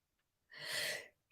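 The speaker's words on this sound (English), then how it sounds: "So I'm going to sneeze. I'm just warning you." One person's sneeze, a single short, breathy burst up close that rises and fades within half a second against a quiet background.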